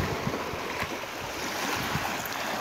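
Sea waves wash against the Dammam Corniche seafront in a steady broadband rush, with soft swells rising and falling close by and no voices.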